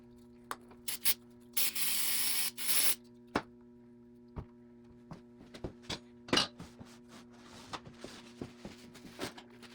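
A dirty lawn mower being sprayed down before being opened up: short hissing spray bursts, the longest lasting about a second, between clicks, knocks and handling noises close by.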